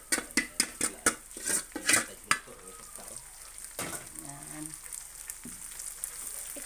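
Chili peppers, siling labuyo, go into hot oil with browned garlic: a few sharp utensil clanks against the pan up front, then a steady close sizzle of frying with light stirring.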